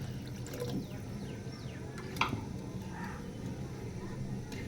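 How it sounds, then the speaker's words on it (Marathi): Water is poured from a glass into a pot of thin gram-flour batter for pithla cooking on a home stove, a soft, steady low wash of liquid against faint kitchen background noise. "अजून एक साधारण अर्धा पेला घालते."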